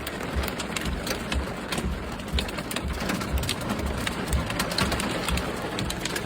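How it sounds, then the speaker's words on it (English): Hail striking a car windshield during a Florida storm, a dense, steady rattle of sharp ice impacts with scattered louder hits, close and continuous throughout with no voices. "This is the hail coming across my windshield."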